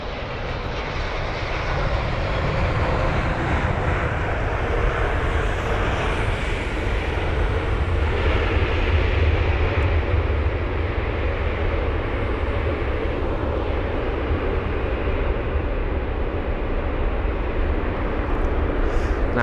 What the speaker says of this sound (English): That's a 350, my favourite aircraft.